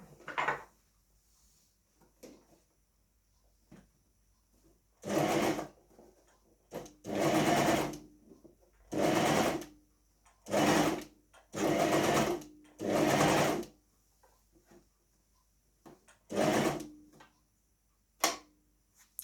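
A coverstitch sewing machine stitching fabric with differential feed and a long stitch length, running in several bursts of a few seconds each, separated by quiet pauses with small clicks and handling noises.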